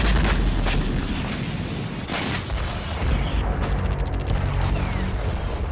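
Heavy booms and artillery fire in war-torn Ukraine, loud and dense, with a sustained rumbling roar broken by sharper blasts and a rapid crackling burst later on.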